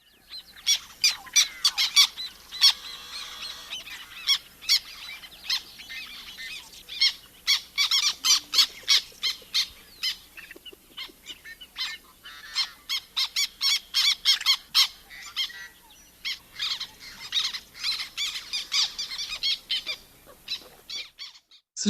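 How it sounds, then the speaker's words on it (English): A marsh bird gives a long series of harsh, rasping squawks in irregular bursts, rough and squeaky, repeating close and fairly loud over a quiet outdoor background with no talking. "So just a lot of harsh squawks there."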